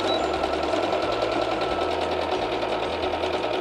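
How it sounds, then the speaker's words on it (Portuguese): A sewing machine runs steadily, stitching along a marked line on fabric for a small bodice piece, its close, continuous mechanical whir unbroken by talk. "Agora vamos para a máquina de costura costurar o nosso corpinho."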